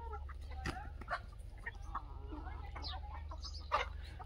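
Desi hens clucking in a farm yard, a scatter of short close clucks and chirps over a steady low background hum, no talk.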